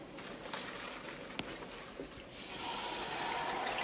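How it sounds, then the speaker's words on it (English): Tap water runs into a container to make salt water for soaking cabbages, first as a soft steady trickle, then as a louder, fuller rush that fills the vessel. "Now I'm going to make salty water to soak up the cabbages for a few hours."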